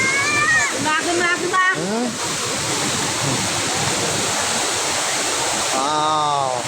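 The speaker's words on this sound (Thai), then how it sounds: "นี่เป็นน้ำตกตาดแกงยุยทุกคน" Tat Kaeng Nyui waterfall near Vang Vieng roars with a loud, steady rush of falling water, close and continuous, while voices exclaim over it at the start and end.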